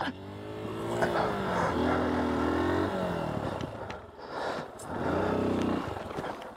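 A 2023 Honda XR150L motorcycle engine drones steadily while ridden over rough off-road ground, its pitch rising and falling with throttle, fairly close and loud throughout, with brief dips between pulls.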